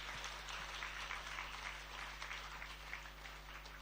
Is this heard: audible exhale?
no